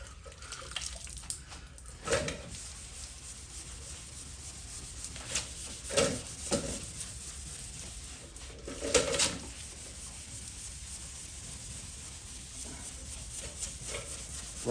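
A soaked rag and water run over a car body panel during wet sanding of 2K primer, giving a quiet steady rubbing with a few louder scrubbing swipes and faint trickling.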